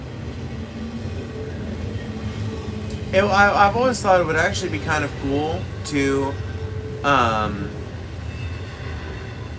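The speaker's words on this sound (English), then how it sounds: "That train is so soothing." A passing train gives a steady, broad rumble that carries through the whole stretch, with a person talking over it in the middle.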